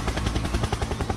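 A helicopter in the Roblox video game, a loud, steady rotor thumping with rapid rhythmic pulses and broad noise filling the short stretch, close and continuous.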